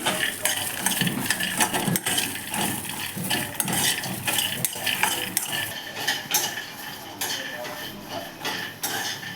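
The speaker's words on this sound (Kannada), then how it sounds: "ಕಡಲೆ ಬೀಜ ಮತ್ತು ಹಸಿಮೆಣಸಿನ್ಕಾಯಿ ಹಾಕೊಂಡು ಹುರ್ಕೋತಾ ಇದ್ದೀನಿ." Peanuts and green chillies being roasted in a pan for peanut chutney, with steady scraping and stirring, metal utensil clinks against the pan and a soft sizzle running throughout, fairly close and loud, no voices.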